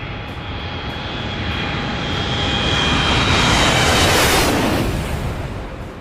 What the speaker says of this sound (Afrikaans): Kyk hoe groot is daardie vliegtuig.